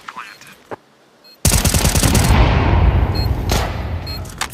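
Counter-Strike 2 match audio: after a quiet stretch with a couple of faint clicks, a sudden loud burst of rapid automatic gunfire and an explosive blast erupts and rumbles on, with further sharp shots near the end.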